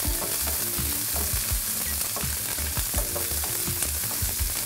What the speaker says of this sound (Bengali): জিরে তেজপাতাটা একটু ফুটলে আমি এই সবজি দিয়ে দিচ্ছি।